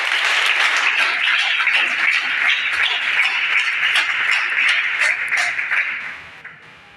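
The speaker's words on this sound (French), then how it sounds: "Encore une fois, s'il vous plaît, d'applaudir." Audience applause at a nursing school ceremony in Cayenne fills the room, a dense, steady wash of many hands clapping that holds strongly before fading out over the final second.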